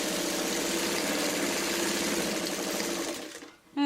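Sewing machine stitching back and forth to reinforce a purse seam, a steady close motor hum that stops near the end, followed by a brief clunk.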